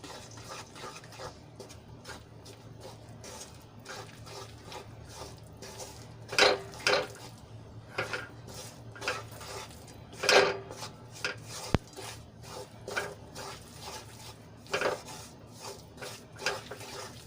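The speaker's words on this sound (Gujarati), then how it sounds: "તો એમાં આપણે લોટ એડ કરી લઈશું અને સરસ રીતે આપણે ઘીમાં એને મિક્સ કરી લઈશું" Flour is stirred into hot ghee in a kadai for sukhdi, giving intermittent scraping and clinking of a spoon against the pan that rises and falls in bursts, with no voices.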